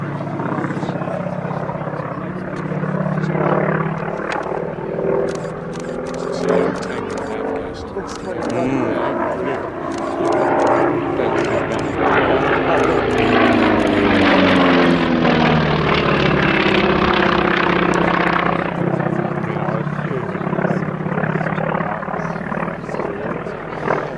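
Propeller engine of a Grumman FM-2 Wildcat, built by General Motors' Eastern Aircraft Division and called the Wildcat V in Royal Navy service, a loud, steady droning roar that swells toward the middle, heard under continuous talking.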